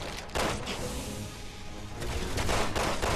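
Video game gunfire in Resident Evil 6, a rapid run of sharp shots crackling in bursts at moderate loudness with no voices.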